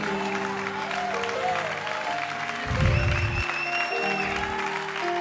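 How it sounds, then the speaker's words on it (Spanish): A church congregation applauds during a Spanish-language worship service, a sustained dense clapping from many hands with a swell near the middle, mixed with sustained tonal music and some crowd voices. "dale un aplauso al Espíritu Santo de Dios"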